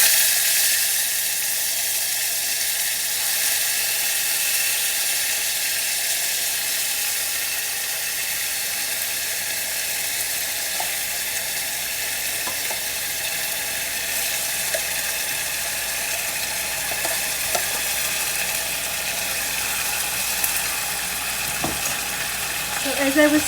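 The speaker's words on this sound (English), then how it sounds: "this is where I'm going to be adding in my tomatoes" Tomatoes sizzle and fry in a pan for pepper rasam, a steady close crackle that holds for the whole stretch with no voice over it and a few faint clinks near the end.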